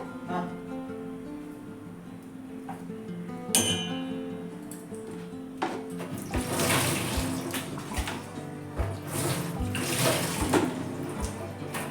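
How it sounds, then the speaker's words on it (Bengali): Boiled Maggi noodles drained of their water in a kitchen, with an early metallic clink, then a rushing splash of water pouring out and intermittent sloshes and clatters, close and moderately loud. "ম্যাগিটা সেদ্ধ করে নিচ্ছি তারপর ছেঁকে নেব"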